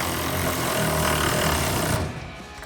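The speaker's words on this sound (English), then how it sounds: "So we grab our ratchet and T25 socket, and tighten this down." Ratchet and T25 socket tightening a screw while installing a retractable tonneau cover on a 2014-2018 Chevrolet Silverado 1500, a continuous dense mechanical clicking and rasping that runs steadily, then drops off abruptly near the end.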